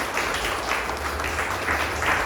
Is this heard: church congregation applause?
yes